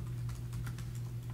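Rapid keystrokes on a computer keyboard, with soft uneven clicks close by over a low steady hum.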